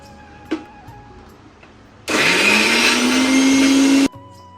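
An electric mixer grinds mint, coriander, chillies, garlic and ginger into a green paste, starting abruptly with a loud high whir that holds steady for about two seconds and then stops sharply, after quiet kitchen sounds.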